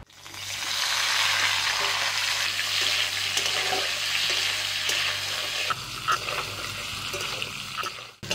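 Potatoes that were boiled and drained sizzle steadily in a pan of hot oil with panch phoron and dried chilli, a loud continuous fry that shifts in tone partway through.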